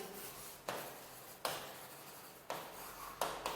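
A pen or pencil writing a sentence on paper, soft continuous scratching strokes with brief pauses and small onsets as new words begin, faint and close.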